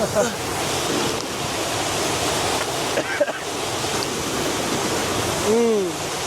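Spring water flows steadily on a mountain hike, a continuous rushing wash with wind noise on the microphone, heard close and fairly loud throughout, with brief voices and a short whistle-like tone near the end.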